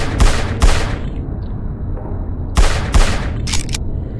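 Gunfire in the zombie game Vanish Rain comes as two pairs of sharp, loud shots, followed by a quicker flurry of cracks at the end.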